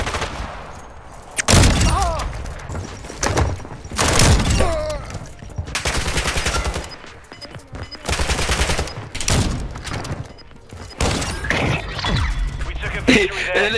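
Sniper rifle fire in a video game 1v1 sniper battle: sharp, loud single cracks spaced a few seconds apart, with players talking between and over the shots.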